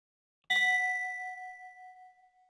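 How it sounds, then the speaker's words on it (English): One clear bell strike from a Minecraft bell rings out and fades slowly over a couple of seconds, alone in a quiet moment of vanilla singleplayer play in an underground city. "Oh yeah, you got these doorbells."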